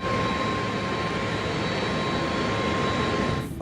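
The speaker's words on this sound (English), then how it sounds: "2 hours late, Flight 965 is cleared for takeoff." American Airlines jet airliner on its takeoff roll, a loud, steady roar of jet engines with a constant high whine, fading abruptly at the end, with no talk.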